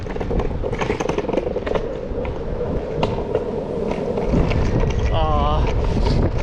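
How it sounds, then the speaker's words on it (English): Strong wind roars and buffets the microphone during a long-distance longboard ride through a town, a steady loud rushing blast with wheel rumble underneath and a voice briefly audible. "Wind is blowing super hard"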